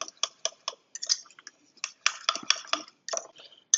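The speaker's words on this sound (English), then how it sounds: "I'm just using a fork so I can get a good mix on that stuff" A fork mixes a ribeye brisket meat mixture for sliders in a bowl, making quick, irregular clinks and taps against the bowl. The sound is close and runs in short bursts with brief pauses.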